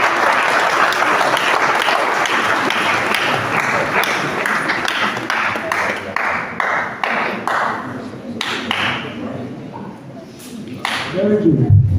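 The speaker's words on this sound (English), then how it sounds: "We can clap for them very quick." A graduation assembly audience applauds the graduates with dense, sustained clapping, some louder individual claps standing out near the end as the applause thins slightly, with voices murmuring underneath.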